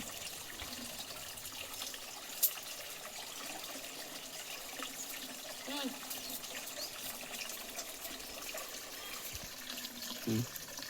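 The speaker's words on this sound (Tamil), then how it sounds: "லோசி குட்டி குளிக்குது." Water runs and trickles steadily while a pet is bathed, a faint, continuous splashing flow with occasional small knocks, and a person speaks quietly over it.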